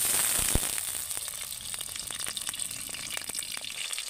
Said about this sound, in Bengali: তেলের মধ্যে আমি মাছের মাথাটা ভেজে নেব